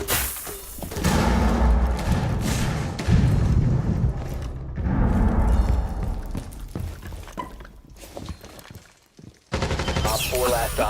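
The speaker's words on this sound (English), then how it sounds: "Frag grenade out." Frag grenade blast in Rainbow Six Siege amid heavy gunfire, with loud thuds and bursts of shooting over several seconds, a brief lull, then another sharp burst of combat noise.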